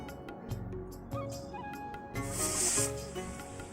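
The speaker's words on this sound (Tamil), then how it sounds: "இப்போ நம்ம விசில் விட்டுடலாம் ஒரு ரெண்டு மூணு விசில் நல்லா வரட்டும் பருப்பு நல்லா வெந்து வரணும்" A pressure cooker cooking lentils for wedding-style sambar lets out a loud, hissing steam whistle in the second half, after quieter kitchen clatter and background hum.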